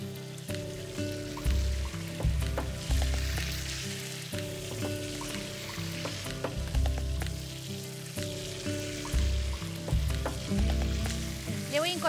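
Chicken pieces browning in oil on a wide disco pan, a continuous loud sizzle with periodic scraping and stirring clatter as the meat is turned.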